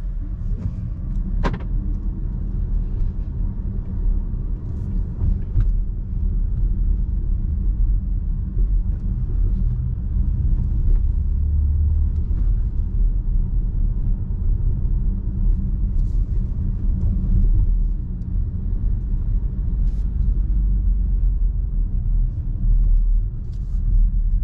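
A 2022 Skoda Enyaq iV Sportline electric car, 180 hp with a 62 kWh battery, drives along a road: a continuous low rumble of tyres and road noise from inside the cabin, with occasional faint clicks and rattles.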